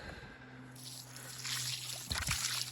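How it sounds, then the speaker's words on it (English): Water sloshes and trickles onto thick mud beside an AR rifle set up for a mud endurance test, starting quietly and swelling into a close, splashing gush with wet squishing near the end, no talk. "sacrifice all my water to make this mud a little muddier"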